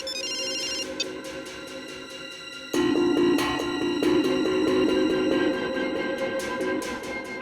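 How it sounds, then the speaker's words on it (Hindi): A telephone rings with an electronic ringtone, a tinny melodic tone at first, then a louder repeating pattern of bright bell-like notes from about the three-second mark, close and clear with no speech. "पायल फोन कट करो।"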